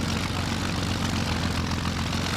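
Messerschmitt Bf-109 piston engine and propeller throttling up in the X-Plane flight simulator, a loud, steady, dense drone with a low rumbling throb that holds through the whole stretch with no talking.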